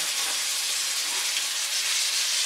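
A thick rib eye steak sizzles steadily in a pan, a loud, close, continuous hiss of frying with no break across the whole stretch.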